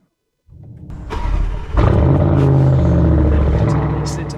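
A Lamborghini Urus with a Milltek race exhaust fires up after a brief silence: the starter cranks, then a sharp loud flare into a deep, steady rumbling idle nearby.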